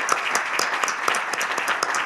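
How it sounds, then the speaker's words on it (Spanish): Audience applause closing a lecture on the founding of a parish church in Isla Cristina, steady dense clapping from a room of listeners. "Un aplauso por todo."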